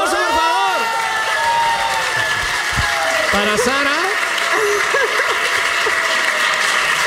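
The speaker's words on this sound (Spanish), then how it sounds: "¡Un aplauso, por favor!" Audience applause with cheering during a Spanish podcast recording, a loud continuous crowd wash throughout while someone talks over it.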